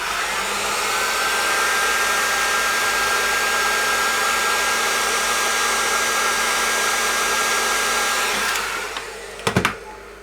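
A hot air blower heating a leaking capacitor inside a 1955 Fender Tweed DeLuxe amplifier, a loud constant whooshing roar with a faint whine that cuts off near the end, followed by a couple of sharp clicks.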